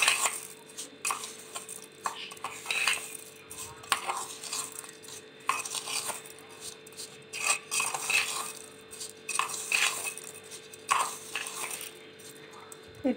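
A spoon stirring raw mango pickle mixture with sugar in a metal bowl, giving repeated scraping clinks and light clatter in an irregular rhythm, close and moderately loud, with no talking.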